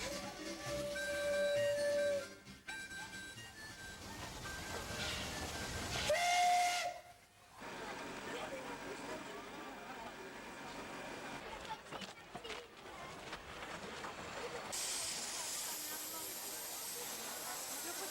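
A steam train pulls away, with a whistle blowing and steam hissing loudly, and a broad rush of escaping steam that swells, breaks off, then returns as steady hiss; a voice speaks over part of it.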